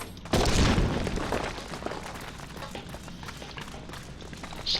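Fire sand explosion blowing up a wall in Duty Found's Copperbell Mines, a single loud boom followed by rumbling debris and scattered footsteps.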